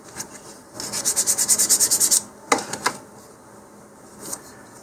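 Sandpaper rubs along the leading edge of a balsa fin for an Estes Patriot Missile model rocket, a rapid run of about a dozen close rhythmic strokes followed by a few scattered scrapes, with no talking.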